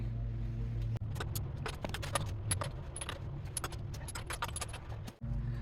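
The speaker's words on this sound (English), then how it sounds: "First thing we're going to want to do is loosen all the lug nuts prior to jacking up the car" Lug nuts on a 2020 Kia Telluride wheel are worked loose, giving a run of sharp metallic clicks and rattles over a steady low hum, close by, with no talk.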